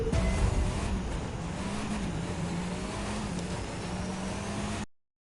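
An Italian compact car in The Crew 2 races downhill with a continuous engine drone and road rush that hold steady, then cut off abruptly near the end.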